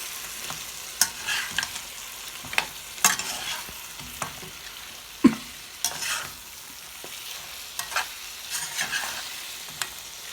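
Mutton being stirred in a hot pan for a black pepper roast, with irregular scraping and clattering strokes over a faint steady sizzle and no talk.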